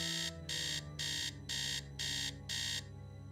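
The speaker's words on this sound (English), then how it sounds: "I love that alarm sound." Alarm clock in a Nancy Drew haunted-mansion game rings in six loud, even bursts of shrill electronic beeping, each about a third of a second long with short gaps, over a faint background hum.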